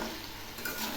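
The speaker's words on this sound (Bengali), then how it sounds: "সবজিগুলো আবার একটু নেড়ে দিচ্ছি।" Vegetables frying for daliya khichdi being stirred in a pan, a brief soft sizzle with a light scrape of the spoon, quiet and close.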